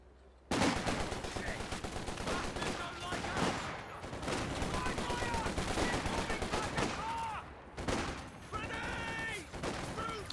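Dense infantry gunfire from a Company of Heroes 2 battle, a sustained rattle of rifle and machine-gun bursts with fast overlapping shots that run loud and continuous through the whole stretch, with battle voices mixed underneath.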